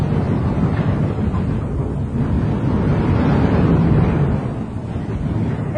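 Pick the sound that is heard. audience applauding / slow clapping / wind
wind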